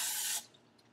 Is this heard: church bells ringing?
no